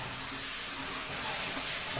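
Masala sizzling steadily in a hot pan while being cooked down for a soya chap gravy, a continuous close frying hiss with faint stirring, no voices.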